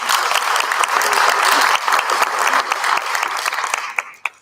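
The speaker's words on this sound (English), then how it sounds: "Let's give her a round of applause." A community college audience applauds a new instructor at a state-of-the-college address, a dense burst of clapping from a crowd in a hall that thins out into a few scattered final claps.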